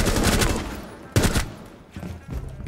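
Gunfire rings out in the video game Rainbow Six Siege: a loud burst of shots, a sharp single crack, then two shorter bursts in quick succession, all close and punchy.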